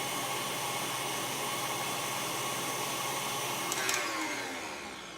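Electric hand mixer beating batter in a kitchen, a steady continuous motor whir running close and loud throughout with a brief rattle near the end.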